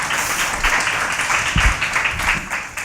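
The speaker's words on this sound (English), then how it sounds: "Give some applause." An audience at a classroom mindfulness event gives brief, moderate applause, a dense patter of clapping with a few louder claps near the middle.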